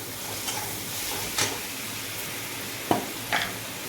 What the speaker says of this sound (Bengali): তো ওর মধ্যে দিয়ে দেবো বেটে রাখা রসুন